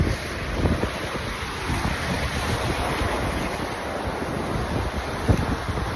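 Waves wash against the China Sea shore in a continuous roar with gusty wind across the microphone and a few louder surges breaking through.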